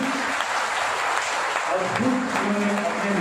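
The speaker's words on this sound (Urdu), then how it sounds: "آپ نے بھرپور تالیاں بجا کر ہماری بیٹیوں کو خراج تحسین پیش کرنا ہے" Audience clapping at a Tiger Force ceremony in Jhelum, a steady crowd applause filling the room throughout, with speech running underneath.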